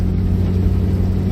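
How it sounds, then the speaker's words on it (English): A raspy 1969 classic car engine drones steadily with a low rumble, close by and continuous throughout. "Engine sounds quite raspy, which is nice."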